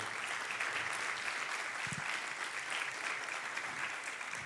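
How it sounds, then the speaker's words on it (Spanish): A church congregation at a Sunday service claps in sustained, even applause filling the room, with a brief low voice-like murmur partway through. "Denle un aplauso"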